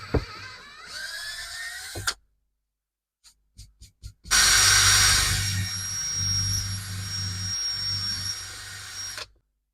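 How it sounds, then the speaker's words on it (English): Air is blown to clear dust from holes drilled in a wooden desk made from cheap wood, a loud steady rushing hiss with a low motor hum lasting several seconds, after brief mechanical whirring and a few clicks. "Blow any dust that's in there out"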